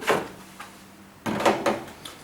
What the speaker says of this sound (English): Now we need to remove the soap drawer.